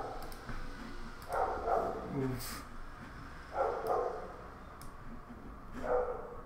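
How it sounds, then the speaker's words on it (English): Several dogs bark in short bursts in the background of a room, roughly every couple of seconds, while a person speaks over them. "I'm sorry about the dogs that are barking."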